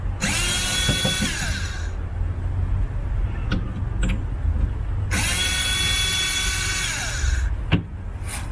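A power drill backs out two screws from the striker plate of an RV door lock, each a high whining spin of about two seconds, close and loud, separated by a quieter pause with a few light clicks.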